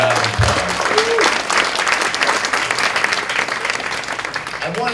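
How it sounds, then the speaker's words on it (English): A crowd at a Caribbean American celebration in New York City claps continuously and loudly, with a few whistles or cheering voices rising through the applause. "Let's give everybody a big round of applause."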